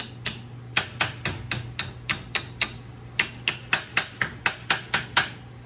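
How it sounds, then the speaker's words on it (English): A hammer planishes dents out of sheet metal around a round shape, with about twenty sharp, ringing metallic strikes in a steady rhythm and a brief pause midway. "I'm going to planish it around this round shape."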